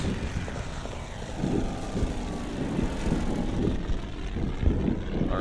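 Bomber aircraft engines drone in the video game Order of Battle Pacific, a steady loud propeller hum that swells slightly and holds throughout, with no talking.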